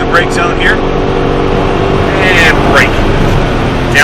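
Supercar on a racetrack in Las Vegas braking hard and downshifting, a loud continuous engine roar with rising and falling whine sweeps from rev changes, heard from the cabin while a voice talks over it.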